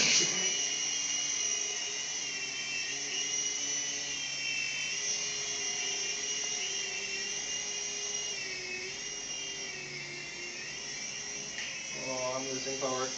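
A small toy or model helicopter lifts off with a steady, high-pitched whine from its electric motor and rotor, close and continuous, with a voice briefly heard underneath.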